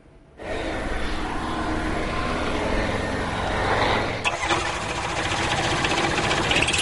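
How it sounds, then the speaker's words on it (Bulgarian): A small propeller airplane's engine drones loudly and steadily at an air show in Bulgaria, a near continuous hum with a brief dip before resuming. "Годишнината от българската авиация и повод да се изпробват нови модели самолети, като този."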